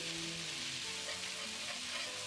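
Spice paste hitting hot mustard oil for a prawn and Malabar spinach curry, a loud steady close sizzle and bubbling fry with faint stirring throughout.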